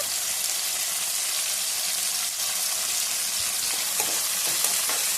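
Tomatoes and okra cook in a pan for a Rayalaseema-style bendakaya pullagura, giving a steady, dense sizzle and frying hiss throughout, with faint stirring clinks, close and unbroken, no voices.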